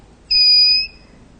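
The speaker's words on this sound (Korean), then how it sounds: "선생님, 간이 전도기에서 삐 소리가 났어요." A simple conductivity tester dipped in salt water gives one clean, loud electronic beep lasting about half a second, steady in pitch, in an otherwise quiet room.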